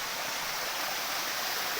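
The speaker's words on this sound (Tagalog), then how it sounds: "Ang ingay sa tubig." A steady rush of stream water flowing near a lakatan banana plantation, a close, continuous hiss of broadband noise with no talk over it.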